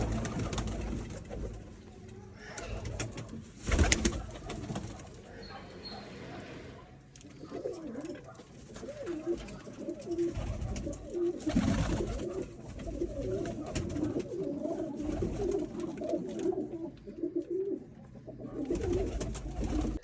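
Pigeons coo repeatedly at close range, with soft rustling and faint human voices in the background.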